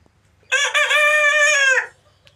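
One long, loud, close crow from a Tiger breed rooster, over 80 days old, rings out for over a second before quiet returns.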